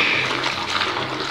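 Water splashed by hand from a container onto a car during a wash without a hose, a continuous close rushing splash lasting just over a second.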